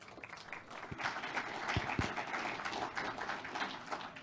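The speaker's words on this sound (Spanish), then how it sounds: "Les damos un fuerte aplauso." Applause at a formal forum on free, prior and informed consultation with Afro-descendant communities, a steady wash of clapping from the audience, moderately loud and continuous, with a few low thumps near the microphone.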